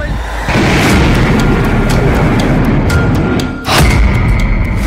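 A loud explosion blast from news footage: a heavy rumbling roar with sharp cracking bursts, a brief dip, then a second violent impact that keeps thundering.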